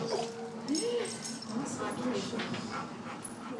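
A dog whimpers in a series of thin, wavering whines close by, with soft panting and people talking over it.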